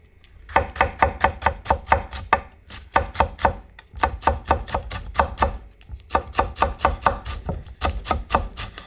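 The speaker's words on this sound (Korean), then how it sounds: "그래서 이것도 곱게 다져서 조금 넣어보겠습니다." Rapid knife chopping on a cutting board as chili peppers are finely minced, close up, in quick bursts of steady taps separated by short pauses.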